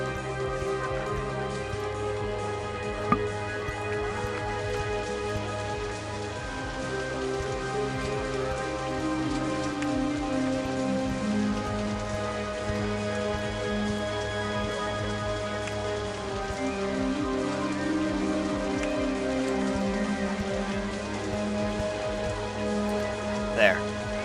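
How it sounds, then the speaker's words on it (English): Steady rain falls in the theme-park building video game OpenRCT2, a constant soft hiss under sustained, droning game music, continuing evenly throughout with no clear breaks. "And here goes some more rain."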